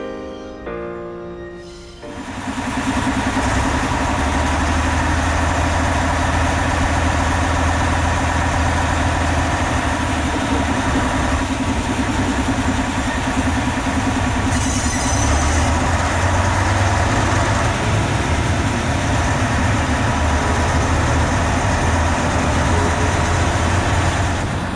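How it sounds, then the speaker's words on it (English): After a quiet start, a diesel locomotive on the Döllnitzbahn narrow-gauge railway rumbles loud and close from just behind it in the first carriage, a steady deep engine drone throughout. "this time with a diesel locomotive right in front of our car, which was quite interesting because we could enjoy the sound of the train a bit more"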